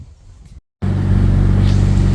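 A Mitsubishi Evo engine running close by while its cooling system is bled with the defrost on: a brief cut to silence, then a loud, steady, rumbling idle that continues to the end.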